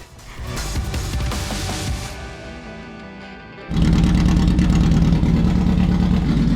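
A fake F1 car engine revs loudly, drops to a quieter fluctuating note, then settles into a loud, steady, throbbing idle at close range, with no voices.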